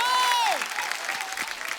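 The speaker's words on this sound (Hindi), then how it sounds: "जोरदार तालियां ऋचा दीदी के लिए।" A television studio audience on a comedy talk show breaks into applause to welcome a singer, the clapping steady and fairly loud after a brief tone at the start, with a few voices mixed in.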